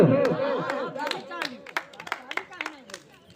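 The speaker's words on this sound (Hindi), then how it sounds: "ताली बजाओगे अच्छा लगेगा तो" Audience clapping at a village street show, scattered hand claps in uneven bursts mixed with children's chatter and talk, fairly close and moderately loud.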